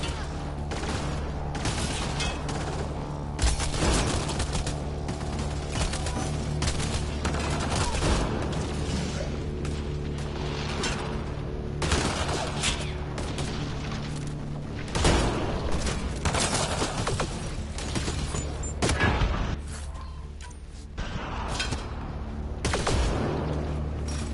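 Repeated bursts of gunfire in Mass Effect Andromeda, sharp shots and booms scattered across a steady background hum of combat, loud and fairly close.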